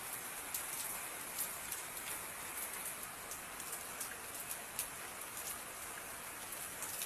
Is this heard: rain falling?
yes